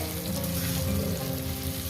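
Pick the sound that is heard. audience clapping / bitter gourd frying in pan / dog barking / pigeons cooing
bitter gourd frying in pan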